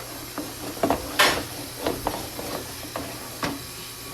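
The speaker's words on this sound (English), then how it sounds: "It's a quick sizzle." Chicken sizzles in a very hot pan with a steady hiss, broken by a few soft clinks and scrapes of utensils, no voices.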